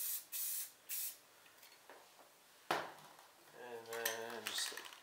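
Spray paint can hissing out short bursts for a black fade in Halloween spray paint art, two quick sprays then a longer, louder burst, with faint talk near the end.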